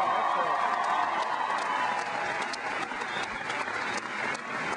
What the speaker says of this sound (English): can everybody please give a huge round of applause to Carrie Rule for the wonderful introduction that she did